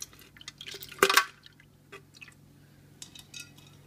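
Melted wax dripping and spilling onto a kitchen counter, a cluster of small liquid splashes and drips peaking around one moment, then a few fainter drips trailing off in a quiet room.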